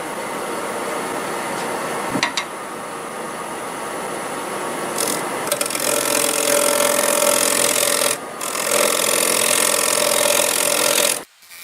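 English walnut bowl spinning on a wood lathe at about 1200 RPM while being cut, heard as a continuous rough, scraping whir with a humming tone that starts, briefly drops out and resumes before stopping abruptly, close, with no talking.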